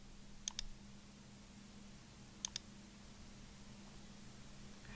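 Two faint pairs of quick mouse clicks sound over a quiet background hum while toggling a setting in Xero accounting software.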